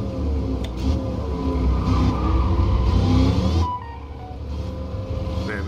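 Car engine revving during a race in Gran Turismo 7, driven with paddle shifters, a loud sustained engine drone with shifting pitch that cuts to a lower, quieter tone partway through.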